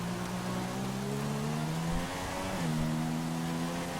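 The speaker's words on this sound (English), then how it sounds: "You can hear the other cars." Race car engines in the F1 2016 video game during career mode, a steady high engine drone that dips and jumps as gears shift, with rain-like hiss beneath.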